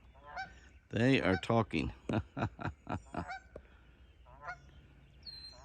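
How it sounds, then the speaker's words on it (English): Geese honk loudly in a rapid series of harsh calls, joined by more distant honks, while a person speaks briefly at the start. "Listen to those geese."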